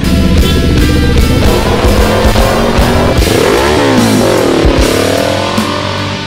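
A Kawasaki Ninja 400 motorcycle engine revs up and down loudly and close by, with a rising and falling roar that fills the whole clip.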